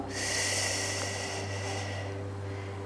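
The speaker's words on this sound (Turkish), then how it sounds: "Kocaman büyük bir nefes alıyoruz." One long, deep breath is drawn in through the nose, close and airy, lasting a few seconds during a calm guided relaxation, with no talking over it.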